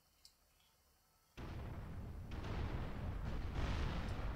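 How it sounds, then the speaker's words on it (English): A KA-50 helicopter's rocket explodes in a VR flight game after a quiet lead-in, bursting into a loud, rumbling boom that keeps roaring, with further blasts rolling in behind it. "He just shot a rocket, just killed something"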